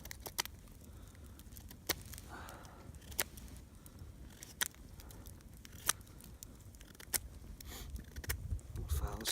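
A Condor Bushlore knife cuts into a wood stick, making a series of sharp, scattered scraping and clicking strokes at an uneven pace, close and fairly quiet.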